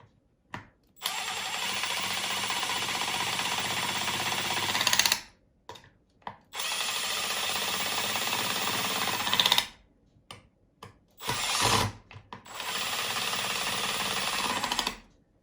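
A power drill runs in long whirring bursts while building an RC car chassis, stopping and restarting several times, loud and close with short quiet gaps between runs.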